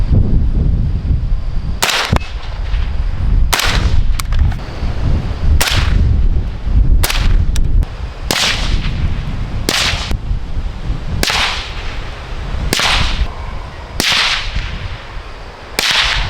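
Suppressed rifle shots from a 20-inch M16A2 fitted with a Shaw Armament Systems Azimuth GRT 556 suppressor, about a dozen sharp cracks fired at a steady, slightly uneven pace over continuous outdoor background noise, without talk.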